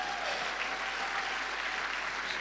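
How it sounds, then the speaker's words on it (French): Congregation at a church worship service held in a hall in Lyon breaks into applause, a dense, even patter of many hands heard from some distance, steady throughout, with a faint voice briefly audible beneath. "On peut applaudir Dieu."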